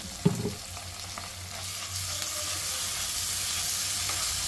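Okra being stirred in hot oil with ginger-garlic paste for a crispy boondi-style fry, a steady broad sizzle with scraping stir strokes and a clack near the start, close and continuous, no talking.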